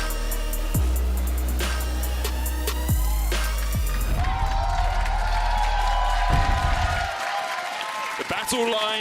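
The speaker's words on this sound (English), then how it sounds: "The crowd is hype, we're hype." An arena crowd at a G2 Esports versus Fnatic League of Legends LEC Summer 2019 match roars with loud, sustained cheering and applause, mixed with dramatic music swells and heavy low booms throughout.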